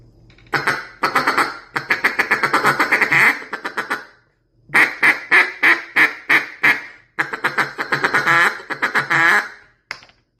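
A cut-down duck call blown in a single chuckle and single feed: rapid, rhythmic bursts of quacking chuckles and feeding chatter, loud and close, with short pauses between runs.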